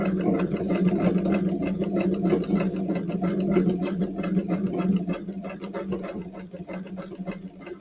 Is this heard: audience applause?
no